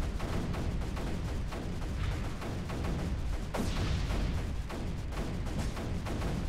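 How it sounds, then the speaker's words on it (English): An Elastipulse cannon firing in the video game Creeper World 3, a rapid, continuous run of booming shots with one louder blast partway through, dense and steady with no voices. "Elastipulse cannon."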